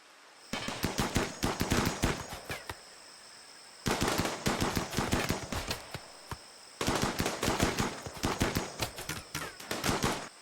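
Rapid gunfire from turrets and raiders in the colony-building video game RimWorld comes in three dense, loud bursts of overlapping shots, each separated by a brief lull.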